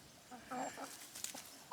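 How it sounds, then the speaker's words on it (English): A young hen, a backyard chick on a Portuguese homestead, gives a few soft, short clucks close by, with a sharper chirp near the end, in quiet surroundings. "This little lady, one of my little chicks."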